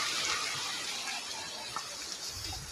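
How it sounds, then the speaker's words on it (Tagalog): Ocean waves in the survival video game Last Island rush and wash continuously, a steady broad hiss of surf at moderate loudness with no voices. "Lumalakas na ang alon."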